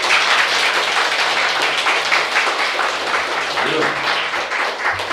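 A seminar audience breaks into sustained applause, a dense even wash of clapping lasting throughout with a voice faintly underneath.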